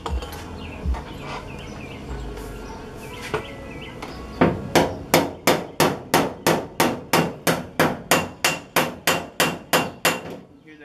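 Hammer and dolly on a flexing, oil-canned car body panel: after some faint scraping, about fifteen sharp metallic tings ring out in a steady, evenly spaced rhythm, close and loud, with no talking.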